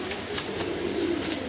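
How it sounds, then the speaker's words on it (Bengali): A pair of large blue bar exhibition pigeons cooing, soft repeated low throaty coos close by, with faint background noise and no talking. "ব্লুবার এক্সিবিশন কবুতর দেখাচ্ছি আপনাদেরকে, বিশাল সাইজের।"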